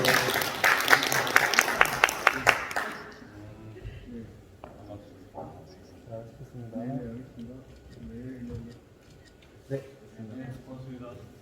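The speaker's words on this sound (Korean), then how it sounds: "박수 한번 주세요." Applause from an audience at an appointment ceremony breaks out at the start, dense clapping for about three seconds before it stops and speech continues over a quiet room.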